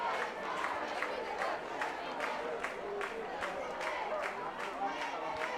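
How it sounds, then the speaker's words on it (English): A large crowd at a junior world ultimate frisbee open final between the USA and Canada roars and cheers continuously, with rhythmic surges of clapping or chanting across the stretch. "The crowd is loving it."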